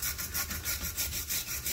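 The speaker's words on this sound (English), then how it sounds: "I'm going to use this wire brush for a second." A wire brush scrubs a bolt taken off during a brake band and linkage job, giving quick, rhythmic, close scratchy strokes about five per second, loud and steady, with no talk.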